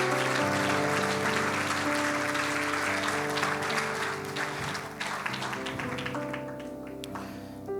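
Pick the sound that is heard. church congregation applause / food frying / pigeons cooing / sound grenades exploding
church congregation applause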